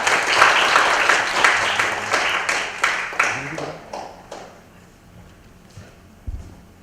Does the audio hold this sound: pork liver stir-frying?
no